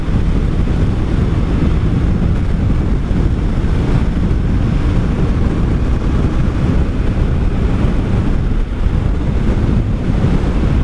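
Loud, constant wind roar buffets the microphone while a rider cruises on a 1984 Honda V65 Sabre VF1100S motorcycle on a windy road, a dense steady rush that buries any engine sound and never lets up.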